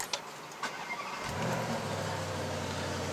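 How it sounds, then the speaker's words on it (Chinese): A 2019 Bentley Continental GT V8 fires up after a few faint clicks, catching with a quick burst and then settling into a deep, steady idle rumble, close and clear. "太爽了，这个 V8声音"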